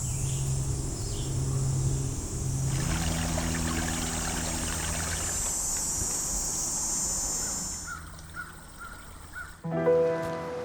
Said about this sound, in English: the sounds of insects and creeks are a true treat to wake up to